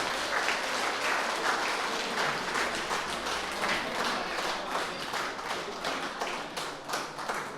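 Dense, sustained audience applause welcoming a speaker to the stage at an Independence Day gathering, loud and continuous throughout with no voices over it.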